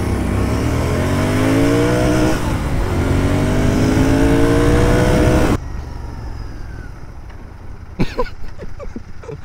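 A Bajaj Dominar motorcycle engine accelerates hard, close and loud, its rising harmonic whine climbing through several gears before cutting off. A quieter idle follows, with a few sharp knocks near the end.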